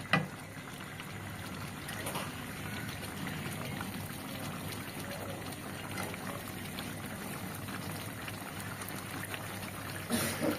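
A pot of lata fish curry with potatoes bubbles steadily at a rolling boil, a soft continuous burble heard up close with no talking, ending with a brief clatter.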